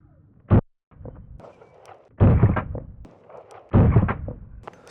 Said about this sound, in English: a literal fireball I just saw come from the muzzle of that gun